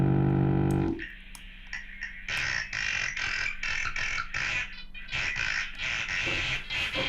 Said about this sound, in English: Oh no, it's R2-D2 being electrocuted.